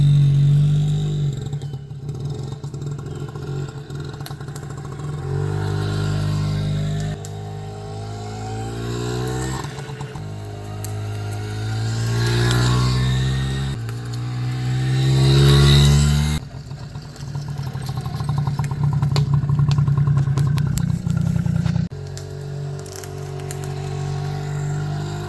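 A Honda Motocompo small scooter engine runs steadily through a ride, its buzzy mid-pitched drone rising and falling with throttle changes and a brief dip partway through, loud and close with no talking.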